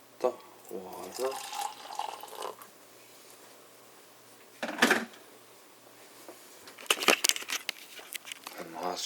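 Water runs into a cup for hot chocolate in a home kitchen, a soft steady stream with a faint rush under quiet background, interrupted by a brief clatter midway and more handling noise near the end.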